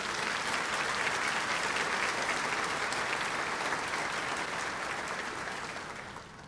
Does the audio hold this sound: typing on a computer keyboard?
no